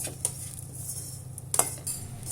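A spoon stirs coconut and fenugreek roasting in a pan on a low flame, making light metallic clinks and scrapes over a faint steady hum, close by.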